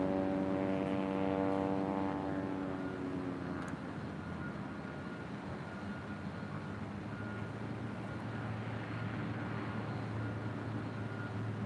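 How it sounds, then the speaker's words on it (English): Airliner taking off from runway 24 left at LAX, a steady broad engine roar that fills the whole stretch, with a fading tonal whine early on and no voices. "Runway 24 left, clear for takeoff."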